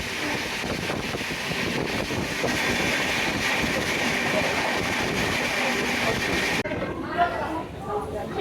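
Daund railway station ambience with a train standing or shunting nearby, broad rumbling noise and hiss, people chattering in the background throughout.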